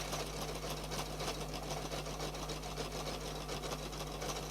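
A sewing machine runs continuously, stitching decorative patterns around a circle, with a steady, even mechanical hum and a rapid needle rhythm heard close up with no talking.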